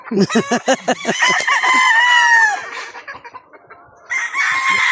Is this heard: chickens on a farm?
yes